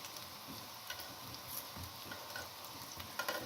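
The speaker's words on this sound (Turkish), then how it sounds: "Diğerlerini de yine aynı işlemi uygulayarak kızartmaya devam edeceğim." Steady oil sizzling and crackling from chicken meatballs frying in a pan, with occasional soft pops, close by and continuous.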